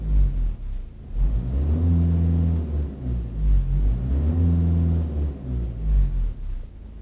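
A VW 2.0 TDI diesel engine revved hard with the throttle floored, rising and falling in two long surging pulls with a deep rumbling tone, close and loud, no talk over it.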